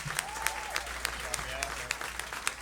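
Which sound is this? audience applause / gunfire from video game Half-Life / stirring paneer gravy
audience applause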